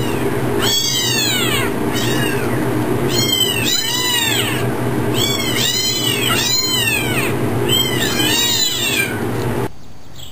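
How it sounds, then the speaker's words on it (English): A kitten meows loudly and repeatedly up close, with a rapid series of high, plaintive cries in bursts over a steady background hum. "kitten time!"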